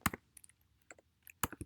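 Quick typing on a computer keyboard: a few crisp clustered keystrokes up close, a short pause, then another burst of clicks, quiet and with no talking.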